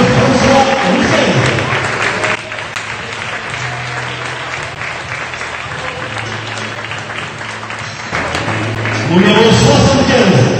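Crowd applause fills a basketball arena during team introductions for a French NM2 game between SMUC Marseille and Feurs Forez, a continuous clapping roar that rises at the start and end, with an announcer talking over it.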